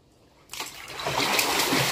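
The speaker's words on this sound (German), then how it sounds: "Unter Wasser schwimmen." Child swimming underwater in a pool: quiet at first, then a sudden splash followed by continuous churning, sloshing water close by.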